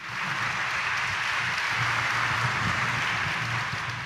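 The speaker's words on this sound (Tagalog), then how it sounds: "Pinakamalakas na palakpak natin." A church congregation at a Catholic Mass during Lent gives loud, sustained applause, a dense, even roar of clapping that holds steady for several seconds without a break.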